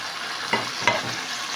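Onions tossed into a hot pan, heard as a soft steady sizzle with two quick scraping clacks of a utensil close by, no voices.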